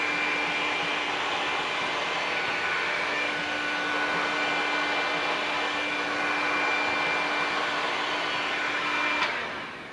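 A heat gun blows steadily while shrinking tint film on a car side window, a constant loud whooshing hum with a faint tonal whine that runs unbroken for nearly ten seconds and then cuts off, with no talking.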